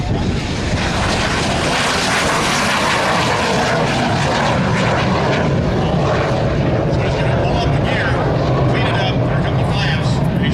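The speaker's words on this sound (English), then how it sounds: "Here's a slow-speed dirty pass. Flaps down, gear down, just about landing speed, but he's going to perform a go-around." A T-33 Shooting Star jet flies a slow, low pass at an air show with flaps and gear down near landing speed, then goes around. Its loud, continuous engine roar fills the whole stretch, and crowd noise mixes in.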